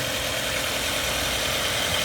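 Idling engine of a 1997 Volkswagen Passat B5, a steady close hum and rumble with no other sounds.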